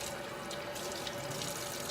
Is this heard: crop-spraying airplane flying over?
no